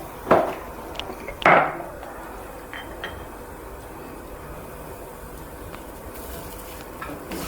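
Coconut and green chilli masala with turmeric and salt sautés in a pan: a low, steady sizzle runs throughout, with two sharp utensil clinks near the start.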